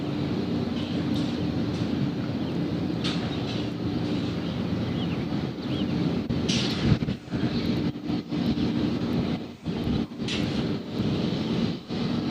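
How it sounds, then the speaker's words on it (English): MD-11 jet engines spooling up at an airport, a steady low roar and hum heard from a distance with scattered clicks and brief dropouts, no talking. "I believe I do hear engines firing up."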